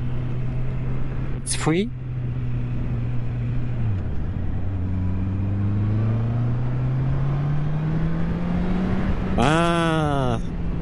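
A Honda CB650R motorcycle accelerating on the Autobahn, its engine tone rising steadily in pitch under loud wind rush, with a rider talking briefly over it and a sharp gear change near the end.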